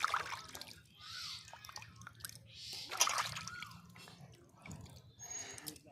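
Fish are washed in water by hand, with soft splashes, drips and sloshing in irregular bursts, close and fairly quiet, while a voice speaks faintly in the background.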